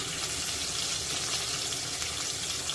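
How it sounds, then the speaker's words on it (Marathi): A medium onion sautéing in a pan for a sprouted moong curry gives a steady, close, dense sizzle that holds evenly throughout with no voices. "एक कांदा घेतलेला आहे मीडियम साईजचा आहे कांदा गुलाबी रंगावर येईल इतकाच परतायचा आहे"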